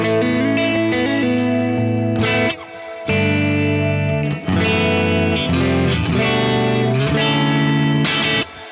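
Guitar chords ring out through a washy Walrus Audio R1 reverb pedal with its low-end EQ turned fully off, thin and bright, strummed in bursts with brief gaps between.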